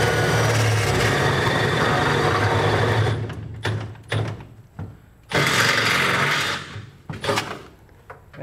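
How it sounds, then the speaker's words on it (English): A drill with a 1/2 inch bit cuts holes up through the steel bed of a 2012 GMC Sierra pickup, in two sustained whirring bursts separated by brief clunks and handling noises. "Now we'll take a 1/2 inch drill bit, and we're going to use the holes in our center section as a template to drill out the 4 holes"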